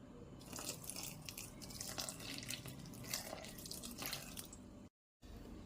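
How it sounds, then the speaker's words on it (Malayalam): Water streams steadily into a bowl of wheat flour dosa batter for a few seconds, a continuous close splashing pour that stops briefly near the end, with no one talking. "ഇനി വെള്ളവും കൂടെ ചേർക്കാം."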